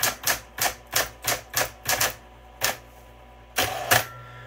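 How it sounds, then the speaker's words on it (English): A Smith Corona Coronet Super 12 electronic typewriter types in a quick run of sharp, evenly spaced mechanical strikes, then a pause and a few more clacks, close and alone with no voices. "Hopefully, this will give you an idea of the operation of this typewriter."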